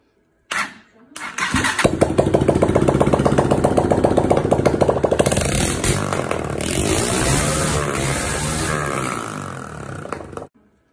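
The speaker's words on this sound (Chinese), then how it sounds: "咱们先用汽油来测试一下这台机器的好坏啊，看能不能打着火" A small gasoline engine starts with a brief pull, then runs steadily at a close, loud, rough idle, and the note settles lower toward the end before cutting off.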